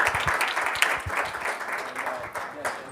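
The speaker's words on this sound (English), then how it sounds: "Another round of applause." Audience applause fills a lecture hall at the close of a talk, a dense, steady patter of many hands clapping at moderate volume for about three seconds, with faint voices mixed in.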